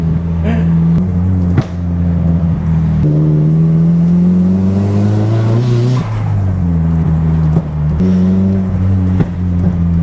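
A Nissan Silvia S15 engine revs up and down loudly, with sharp pops and cracks from backfiring breaking through the droning exhaust note.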